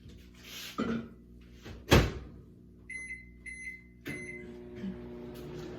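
A microwave door clunks shut, then a few short electronic beeps sound from the keypad in a quiet room as it is set to melt something.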